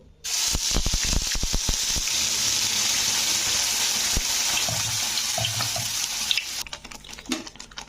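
Ridge gourd peel paste hits hot oil in a wok with a sharp burst of clicks, then settles into a loud, continuous hissing sizzle that fades toward the end.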